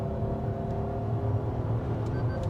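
A car in power mode under full throttle gives a steady, droning engine hum with a low whir inside the cabin, holding at an even level without any clear rise.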